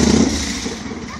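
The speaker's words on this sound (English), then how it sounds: "Unless the motorcycle scares it away." A nearby motorcycle engine gives a short, rough mid-pitched rumble that swells briefly and then eases off, heard outdoors for just over a second.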